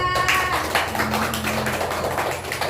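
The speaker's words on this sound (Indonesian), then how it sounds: "beri tepuk tangan buat Mbak Pia" Students clapping for a classmate in a school classroom, a brisk burst of hand claps over a faint hum and background tones, fairly close and lasting a couple of seconds.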